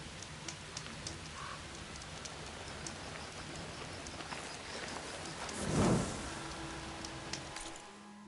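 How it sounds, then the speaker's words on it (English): Rainfall in a video game, a steady soft patter of drops with scattered sharper taps and one brief low rumble near the end, moderately quiet, with no speech. "Rain's letting up."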